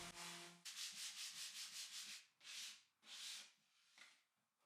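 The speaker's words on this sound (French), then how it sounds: "Je peux maintenant poncer les bords de la boîte pour tout niveler." Rhythmic back-and-forth sanding along the edges of a hand-dovetailed pallet wood box, a run of quick rasping strokes followed by a few longer, slower passes that fade out, close and alone.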